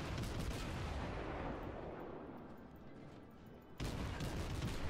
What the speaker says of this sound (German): Volle Breitseite.